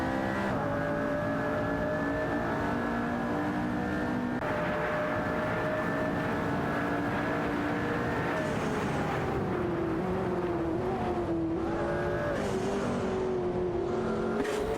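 McLaren P1 and Lamborghini Murcielago race cars in a racing video game, several engines droning together at high revs with sustained whining tones that shift pitch as the cars change gear, loud and continuous without pause, no talking.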